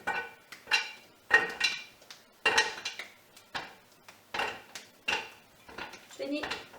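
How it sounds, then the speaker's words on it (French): A knife cutting a chocolate bar into squares, heard as a series of sharp, evenly spaced chops and taps on a board, about a dozen strokes, close and clear. "Et on coupe les carrés."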